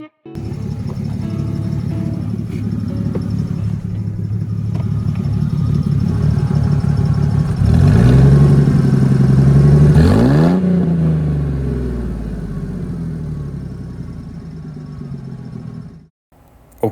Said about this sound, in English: let's give it a rev for good measure